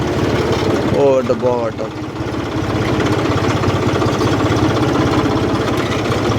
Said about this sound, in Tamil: அப்படியே ரிவேர்ஸ் போட்டு ஓட்டிகிட்டு இருக்கிறேன்